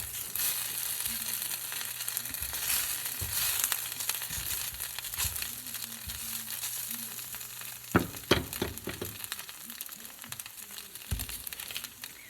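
An egg fries in a pan for a homemade breakfast, a steady crackling sizzle running throughout with a few sharper pops and spatula scrapes near the end, fairly close and moderately loud.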